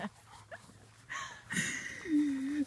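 A terrier mix attacking a Bernese Mountain Dog, heard as short dog whimpers and whines with a rising, strained cry near the end, while someone talks faintly in the background.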